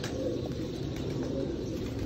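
Sialkoti pigeons at a breeder's loft, soft low repeated cooing from several birds close by, steady throughout with no talk.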